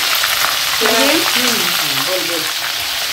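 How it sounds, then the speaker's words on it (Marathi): Masala spices sizzling in hot oil for a mutton curry, a steady close frying hiss with stirring throughout, and a voice talking over it. "ताई परतवता आहे मसाला मस्त तेलामध्ये छान"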